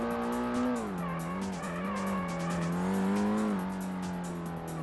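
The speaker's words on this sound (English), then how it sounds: "that popping with the engine though, a little bit of an audio issue, or how the car sounds in general is just a bit naff" A Ford Mustang engine in the Ford Racing video game drones loud and steady at high revs, with a rapid rattling crackle of pops riding over the tone and slight pitch shifts as it drives.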